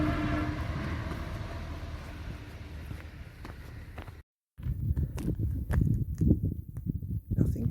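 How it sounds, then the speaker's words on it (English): A train rumbles past on the line near West Humble in the Surrey countryside, a loud close pass with rolling wagon clatter, then a brief gap before rougher, uneven rumble continues. "Oh, here comes a train."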